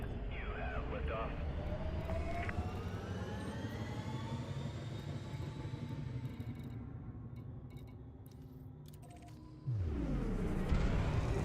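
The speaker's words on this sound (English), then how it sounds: "Confirmed. Ship released. You have liftoff." A spaceship lifts off from an asteroid base in the Elite Dangerous video game, a steady low engine roar and rumble that builds, with rising whines and a sudden louder surge near the end.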